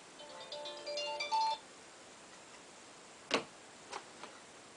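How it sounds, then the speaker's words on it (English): A mobile phone ringing with a short tonal melodic ringtone, faint and up close, followed by a few sharp ticking or tapping clicks in an otherwise quiet room. "and that's my phone"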